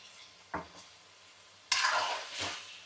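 Chicken pieces fry in hot oil with a soft background sizzle, broken by a short crackle and then a louder, rushing burst of spattering as the pieces are stirred.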